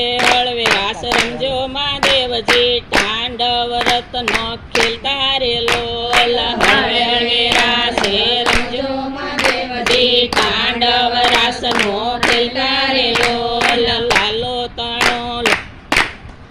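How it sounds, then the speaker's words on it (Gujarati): Steady, rhythmic hand claps keep time with a sung Gujarati devotional bhajan to Shiva (Mahadev), sharp and close, the singing voices carrying on continuously beneath the beat. "ધીમે ધીમે તાળીઓ પાડો મહાદેવજી"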